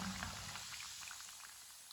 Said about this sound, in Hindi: समोसों को 2 मिनट के लिए फ्राई होने देते हैं।